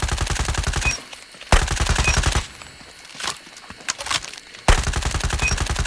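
Bizon SMG firing in the mobile game Call of Duty Mobile: loud rapid automatic bursts, one long burst, a pause with scattered distant shots, then another sustained stream of fire near the end.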